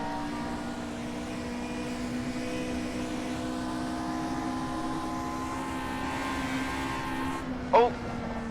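Race cars in rFactor 2 recreating the 1966 Belgian Grand Prix drone steadily with engine tones throughout, running several wide, with a brief louder burst near the end.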